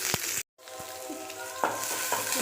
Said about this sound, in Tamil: இதில் வெங்காயம், பெரிய வெங்காயம் 1, இஞ்சி 2 பச்சை மிளகா, ஒரு வரமிளகா இதையும் சேர்த்து வதக்கிக்கலாம்.